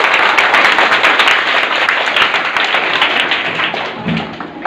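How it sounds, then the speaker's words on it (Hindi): An audience at a high school results distribution ceremony in Imamganj, Patna breaks into loud, close, dense applause for a student, with the clapping thinning out toward the end. "तालियां बजाइए जरा इनके लिए"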